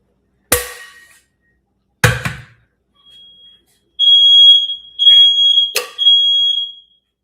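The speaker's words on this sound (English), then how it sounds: "That was like a smoke detector" A household smoke detector goes off after a pot is set on a stove, sounding several loud, shrill electronic beeps in bursts, preceded by a few sharp knocks and clatters.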